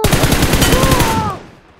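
Rapid gunfire in the mobile battle royale game BGMI/PUBG, a loud continuous burst of shots with a sniper threat nearby, cutting off and fading out after about a second.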